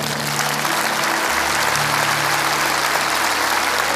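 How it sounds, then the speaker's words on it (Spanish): A church congregation applauds during a service, a steady, dense wash of many hands clapping together at full volume, continuous and close, with no voices standing out. "Vamos, darle un aplauso al Señor."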